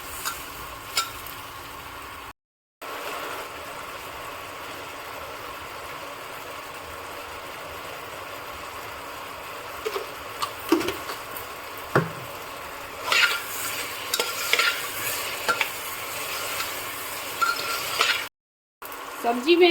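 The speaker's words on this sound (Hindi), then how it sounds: "सब्जी और मसाला अच्छी तरह से भुन गया है" Vegetables with spices, tomato and salt frying and being stirred in a pan for an eggplant and potato pulao, a low steady sizzle with occasional scraping stir sounds, a faint background hum, and brief gaps of silence.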